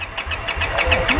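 Indian Scout motorcycle engine idling nearby with a rhythmic, pulsing throb, about six even beats in a short burst; a voice can be heard faintly alongside.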